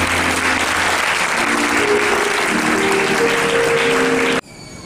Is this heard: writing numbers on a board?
no